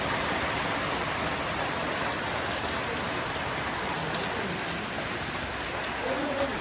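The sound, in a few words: heavy rain falling in the village street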